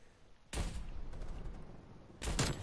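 Two heavy booming shots from an M82 semi-automatic sniper rifle in Call of Duty: Black Ops Cold War, each a loud broadband blast with a rumbling tail, spaced nearly two seconds apart.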